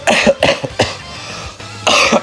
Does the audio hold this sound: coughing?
yes